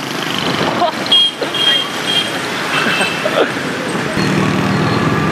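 Riding a motorbike through busy Hanoi street traffic: a continuous close roar of cars and motorbikes with occasional horn toots, and a voice talking intermittently over the din.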